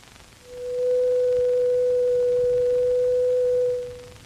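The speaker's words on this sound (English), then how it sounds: "This simple 500 cycle tone can be represented mathematically by a sine wave" Pure 500-cycle sine wave tone sounding steady and loud for about three seconds, rising in quickly and fading out cleanly, alone against faint background hiss.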